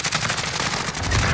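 Sustained automatic fire from a Ram-7 rifle in Call of Duty Warzone, a loud, dense stream of rapid shots running the whole moment without a break, with a heavier low rumble swelling toward the end.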